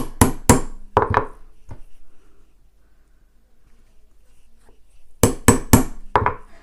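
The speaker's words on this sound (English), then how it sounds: "I'm going to punch each one of them using my regular hole punch that I usually use for rivets" A hole punch strikes through a bag panel making rivet holes: a cluster of sharp, loud knocking impacts, a quiet pause, then another rapid burst of three or four hits near the mic.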